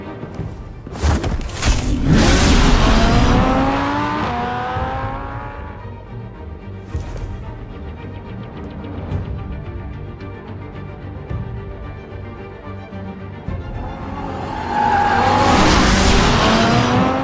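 Police cars from the Batman Telltale video game rev and skid in heavy bursts of tire squeal and engine roar, loudest at the start and again near the end, with a rumbling lull between and no voices.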